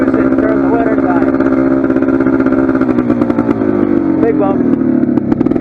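A Polaris 400 ATV engine roars loudly while riding, accelerating with rising revs and clattering over rough ground, very close, with a rider's brief voice over it.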